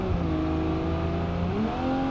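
A car engine in BeamNG.drive revs hard and holds high, a loud sustained buzzing drone with strong harmonics that shifts pitch slightly partway through, with no voices over it.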